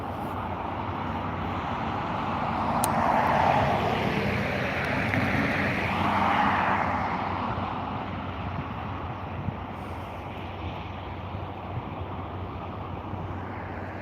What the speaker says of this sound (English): taxiing right in front of you, is a Lufthansa City Airbus A320, I believe, heading over to Frankfurt